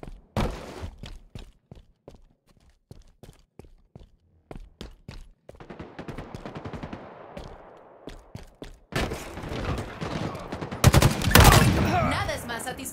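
Weapons fire in the video game Halo Infinite, starting with sharp, spaced single shots and short bursts, then building to dense, loud volleys near the end.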